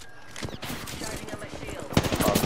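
Rapid automatic gunfire in a video game shooter crackles in dense bursts with a louder volley near the end, while someone talks over it.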